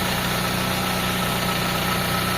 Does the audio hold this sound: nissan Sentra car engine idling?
yes